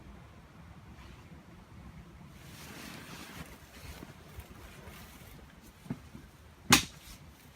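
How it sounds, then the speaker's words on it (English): Wind at an outdoor hammock camp rushes in soft, faint gusts with a surf-like wash, and a couple of brief close bumps near the end. "Still quite windy"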